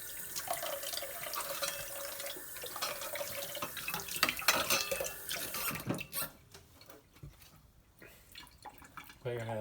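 Water runs and drips from a tap as hands are wet for handling sourdough dough, a patter and splash of the stream with a voice faintly underneath.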